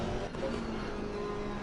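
A Mazda's engine in a PS4 racing game drones steadily at moderate pitch, quiet and constant in the background.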